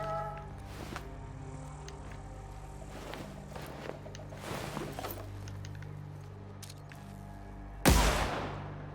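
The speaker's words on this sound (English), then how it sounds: "I heard that gunfire." A burst of gunfire from the video game The Outer Worlds cracks out loud near the end, after quieter game sounds and footstep-like patter.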